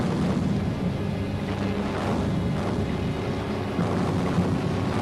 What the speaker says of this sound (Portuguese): 900 canhões começaram a agredir as linhas do eixo e o ataque começou.